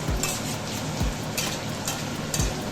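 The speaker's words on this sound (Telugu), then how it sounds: "కొంచెం గోల్డెన్ బ్రౌన్ కలర్ వచ్చేంత వరకు కలుపుకుంటూ ఉండండి" Garlic and curry leaves fry in hot oil, a continuous close sizzle broken by a few soft knocks of a spoon stirring against the pan, with no voices.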